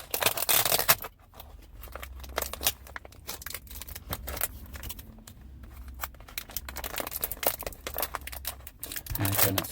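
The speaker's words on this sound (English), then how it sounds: "So let's see if we can untape this." Tape being peeled and pulled off packaging on a secondhand toy dinosaur, giving close crinkling, crackling and tearing bursts in irregular clusters throughout, loudest at the start and end.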